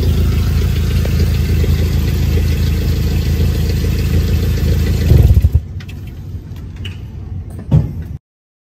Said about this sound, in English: My car's exhaust pipe was giving abnormal sound.